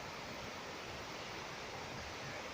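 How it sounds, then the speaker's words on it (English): Water cascades down stone steps in a park, a steady broadband rushing wash that stays constant and fairly soft throughout with no voices. "There's a better shot of the water cascading down the steps."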